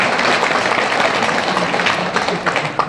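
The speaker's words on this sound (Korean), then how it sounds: "다 같이 박수 한번." A church congregation bursts into applause, dense steady clapping filling the room for about three seconds.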